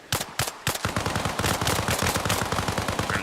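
Rapid bursts of automatic machine-gun fire crack out in quick succession in the video game Arma Reforger, loud and close with a dense, rattling rhythm and no talk.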